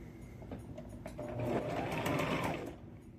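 A sewing machine stitching pants runs in a fast, continuous whir that rises to a steady peak mid-way before easing off, close and alone without talk.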